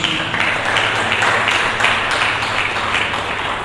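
Sustained applause from a church congregation during a sermon, a dense steady wash of clapping that stays loud throughout with no pauses.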